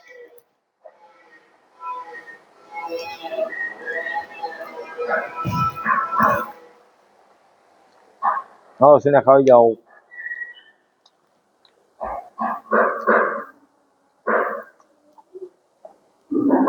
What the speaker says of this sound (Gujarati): કૂતરા જો કૂતરા